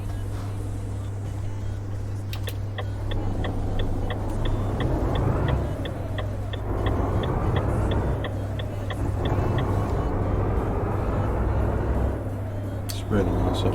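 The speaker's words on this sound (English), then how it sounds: "Just gonna wait for this car to come through." A car rolls past in a driving video game, its steady engine drone and rising-falling whoosh sustained for several seconds over a constant low hum, with faint repeating ticks above and a voice speaking now and then.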